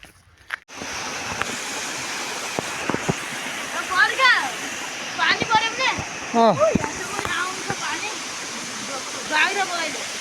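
A river stream in Dailekh, Nepal rushes in a constant close, loud wash while several people talk over it.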